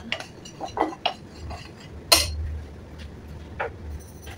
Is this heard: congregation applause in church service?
no